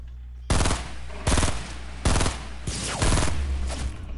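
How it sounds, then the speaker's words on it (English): Bursts of automatic gunfire from a video game shootout, four loud, close volleys of rapid shots separated by short pauses, the last one longer and trailing off. "I'm getting shot at."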